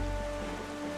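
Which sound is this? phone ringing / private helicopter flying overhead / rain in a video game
rain in a video game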